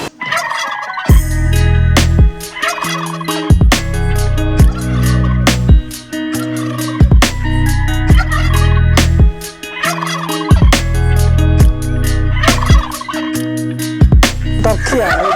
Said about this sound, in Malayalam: ടർക്കിയാണ്